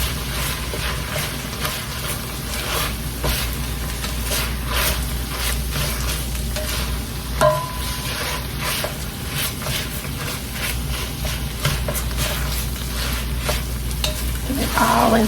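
Ground meat for sloppy joes sizzles loudly in a hot pan while a utensil repeatedly scrapes and stirs it to break up clumps, the crackle steady and close throughout with no speech.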